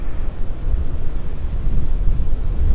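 Wind blusters across a beach in North Naples, Florida, a steady low rumble buffeting the microphone with gusty swells and no voices.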